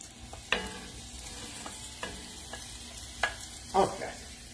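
Sausage frying in a pan, a soft low sizzle broken by a few sharp clicks and scrapes of a utensil against the pan, fairly quiet and close.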